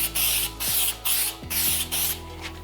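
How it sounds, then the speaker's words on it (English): A spray can sprays etch primer in four or five short hissing bursts, loud and close, separated by brief pauses. "continue to shake the can between sprays"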